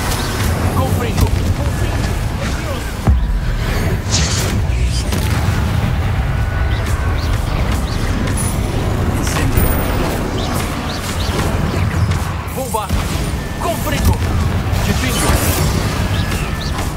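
The explosive fire spell Confringo being cast in the Hogwarts Legacy video game: heavy booms and crashing blasts recur through a dense, continuous game soundscape, with voices speaking over it.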